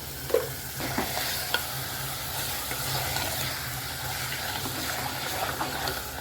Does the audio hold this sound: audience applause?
no